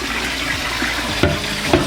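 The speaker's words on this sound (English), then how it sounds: "and the tank will still refill." Water streams steadily into a toilet tank, fitted with a handheld bidet sprayer, as it refills after a flush, a continuous close hiss and trickle with a couple of faint knocks, heard without talk.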